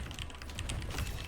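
Fast, continuous typing on a computer keyboard, dense close clicks with no pauses, played alone without talk during a live online casino session.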